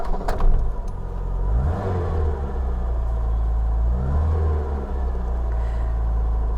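A Mk3 Ford Escort's engine runs close by, rumbling and revving in swelling surges over a steady idle.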